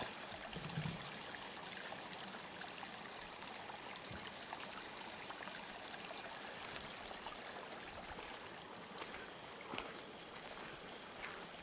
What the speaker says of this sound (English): There's another little creek around through our camp.